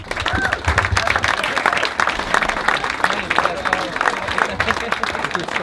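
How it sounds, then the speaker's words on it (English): Applause from guests at a junior football club's 50th anniversary gala dinner, busy continuous clapping with a low crowd murmur under it, loud and close throughout. "Whether you're a coach, a founder, a parent, a volunteer, give yourself a round of applause."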